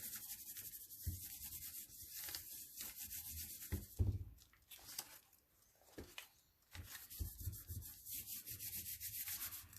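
A rag is rubbed back and forth across a junk journal page in a steady, close scrubbing rhythm of soft papery swishes, with a brief quieter pause midway before the rubbing resumes.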